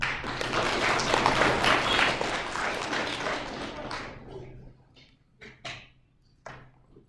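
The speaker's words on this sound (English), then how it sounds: "we'll give a round of applause once they get up here" Applause at a school awards ceremony: dense clapping from the audience for about four seconds that fades out, followed by a few scattered claps and taps.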